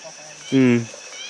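Cicadas drone steadily in a hill forest during the Akha wild-food foraging season, a faint high buzz that runs through the whole moment while a short, louder voice-like sound breaks in briefly near the middle.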